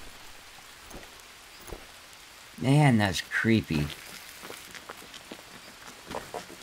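Rain falls steadily in the Green Hell survival video game, a constant soft patter across the whole stretch, with someone briefly speaking over it partway through.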